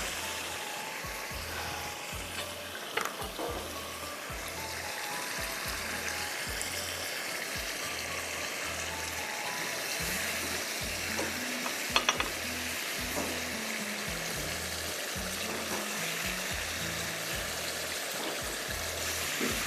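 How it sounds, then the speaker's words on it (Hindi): Pieces of fish re-fry in hot oil for a Schezwan sticky fish dish, a continuous loud sizzle with rhythmic stirring knocks throughout and a few sharp clinks of the utensil. "सॉस में डालने से पहले एक दफ़ा रीफ्राई करेंगे।"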